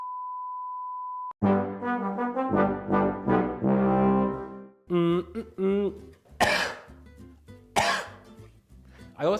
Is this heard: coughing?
yes